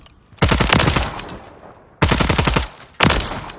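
Tactical weapon firing in Call of Duty Modern Warfare III, heard as three loud, rapid automatic bursts: a long stream of shots, a shorter one, and a brief final burst, with short quiet gaps between them.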